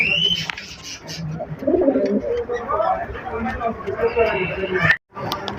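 Desi fancy racer pigeons coo softly in repeated rolling calls close by, under someone talking over them.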